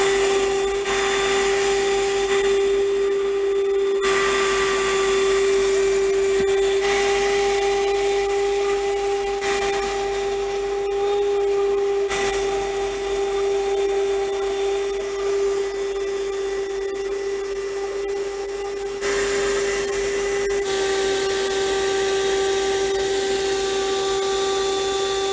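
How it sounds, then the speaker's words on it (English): A 4-in-1 car vacuum cleaner, also built as a digital air pump and compressor, draws suction through a thick hose. It gives a steady, loud motor whine and airflow hiss that runs unbroken, with slight shifts as the hose moves. "I use this thick hose for the suction cleaning test."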